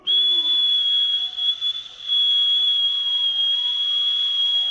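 A single sustained high whistle, loud and steady for nearly five seconds with brief wavers in the middle, heard alone without talk.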